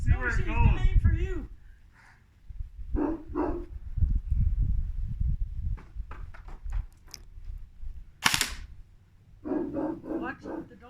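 A dog barks in a backyard during an airsoft game, several sharp barks in bursts separated by pauses, fairly close, with people talking and shouting around it.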